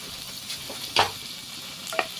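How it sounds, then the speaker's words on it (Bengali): Chopped ginger and garlic sizzle in hot oil in a kadai for a vegetable soup, a soft steady frying hiss broken by two sharper stirring clatters. "তেলটা গরম হয়ে গেলে একটু আদা কুচি, রসুন কুচি"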